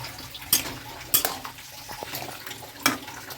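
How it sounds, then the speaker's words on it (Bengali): A mustard paste bowl is rinsed with water and the water is poured into a cooking pot. Faint sloshing and pouring run beneath several sharp clinks of metal and dishware, all close and fairly quiet. "একটুখানি বাটিটা ধুয়ে জল দিয়ে দিলাম"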